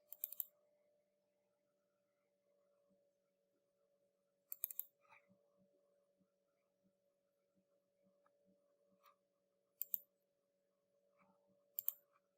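Sparse computer mouse clicks while working in 3D modeling software on a medical jaw model, a few sharp, quiet clicks spaced seconds apart over a faint steady electrical hum.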